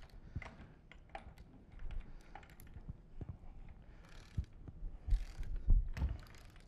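Nuts being snugged up on a ductile pipe mechanical joint with two fittings and a spacer, giving scattered metallic clicks and ratcheting taps at close range, irregular and fairly quiet throughout.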